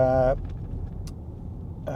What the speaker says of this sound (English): So we're caught up in a wee bit of traffic there, but we're moving a bit better now